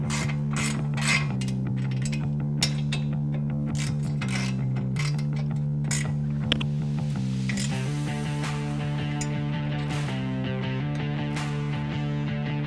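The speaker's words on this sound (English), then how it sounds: "take a 19mm socket on our ratchet, tighten up the bottom completely" A ratchet with a 19mm socket tightens a bottom suspension bolt on a 2019-2023 Ford Ranger, producing rapid repeated clicking bursts over a steady mechanical hum, close and fairly loud.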